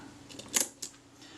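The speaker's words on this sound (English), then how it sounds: "let's just cock and fire the shutter" A Kodak Retina I type 010 folding camera has its shutter cocked and released, giving two short, crisp mechanical clicks close to the microphone against a quiet background.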